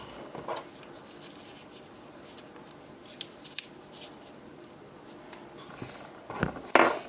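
Pen writing names on paper, soft scratchy strokes close up in a quiet room, with a few sharper taps and a louder rustle near the end.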